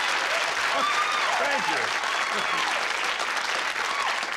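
A studio audience at a 1985 television interview applauds steadily throughout, loud and continuous, while someone says a brief word of thanks over the clapping.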